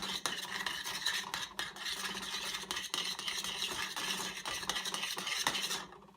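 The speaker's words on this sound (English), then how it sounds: "Just kind of stir it together." Homemade nacho sauce being stirred in a pot makes a quiet, continuous scraping and swirling with soft spoon contact against the metal, faint and without talk.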